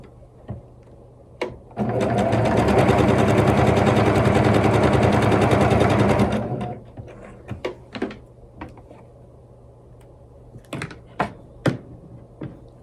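A sewing machine stitches a quarter-inch quilt seam in one steady rapid run of about five seconds, loud and close, followed by scattered clicks and handling of fabric.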